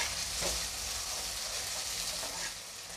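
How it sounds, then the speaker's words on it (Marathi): Finely chopped onions sizzle steadily in hot oil in a pan, a continuous close hiss with occasional stirring, no talking over it. "आता मी कांदा टाकून घेते। 2 मध्यम आकाराचे कांदे बारीक कापून घेतले होते।"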